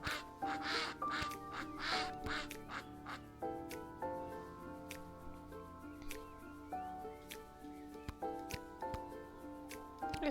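A duck quacks in rapid, loud bursts at the start, followed by quieter repeated quacks over soft musical tones and light clicking.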